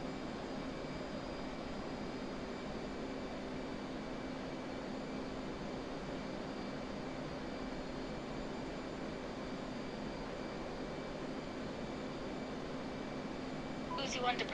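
Steady broadband roar of an F/A-18C's jet engines climbing out after takeoff in DCS World, constant and even throughout with a faint harmonic whine, a brief rattle at the very end, and cockpit radio voices talking over it.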